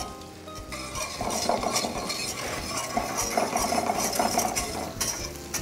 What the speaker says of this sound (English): Which I'll whisk in butter slowly.